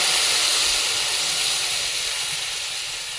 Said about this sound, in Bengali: তারপরে জল দিয়ে দেবো ফুটে নেওয়ার জন্য